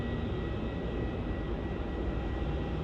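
A Jetstar Airbus A321 in grey livery arriving at Melbourne Airport, its jet roar a steady, broad rumble held at an even level throughout, with no talk.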